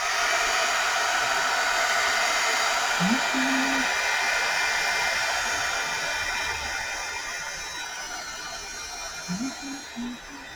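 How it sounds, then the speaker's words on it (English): A small craft heat tool blows steadily to dry paint on a floral specimen card, a constant broadband whoosh that eases slightly toward the end, with a few faint low tonal blips underneath. "I gotta find my little heat tool, and I'm gonna just dry this real quick"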